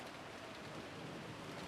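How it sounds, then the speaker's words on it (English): Steady rain pours throughout a short stretch of a break screen in the Umineko visual novel video game, a dense, even hiss of falling water with no voices over it. "we get the soothing sound of rain for the break"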